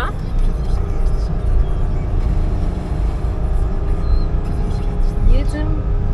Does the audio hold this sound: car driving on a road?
yes